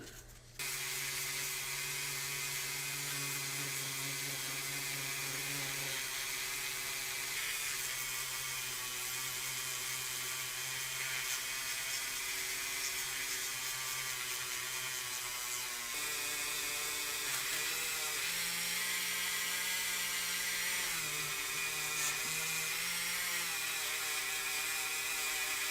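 A small rotary polishing tool buffing out 2000 grit scratches on a vintage Matchbox die-cast van, a steady continuous whine with slight shifts in pitch as pressure changes.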